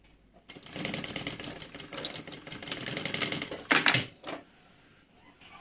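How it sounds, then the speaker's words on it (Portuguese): A sewing machine stitching fabric while a toiletry bag is being made, running in a close, rapid mechanical buzz for several seconds, followed by a few sharper clunks as it stops. "Vai costurando aqui até o final."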